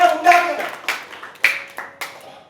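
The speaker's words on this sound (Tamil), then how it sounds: "கைத்தட்டி தேவனை மகிமைப்படுத்துங்க." A church congregation claps in rhythm during a Tamil sermon, a few sharp, evenly spaced hand claps ringing out close by, interleaved with a voice speaking between them.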